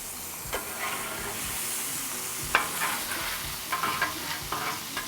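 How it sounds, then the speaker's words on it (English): Eggs fry in bacon grease on a Blackstone griddle at a campsite breakfast, giving a steady close sizzle with occasional scraping spatula clicks and no talking. "What I'm trying to do is get that bacon grease over here to cook my eggs on."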